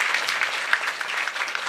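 Sustained clapping from a kirtan audience in Shewalwadi, Manchar, a steady dense patter of many hands at moderate level with no voices over it.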